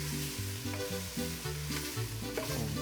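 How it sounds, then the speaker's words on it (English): Vegetables sauté in a pan with garlic, oregano and cumin, a continuous bright sizzle under tonal music, with occasional stirring clicks. "So now this is sauteed enough."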